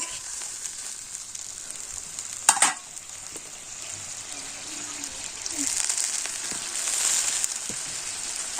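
Cumin seeds sizzling in hot oil in a home kitchen: a steady bright frying hiss throughout, with a sharp clatter early on and a swell of sizzle toward the end.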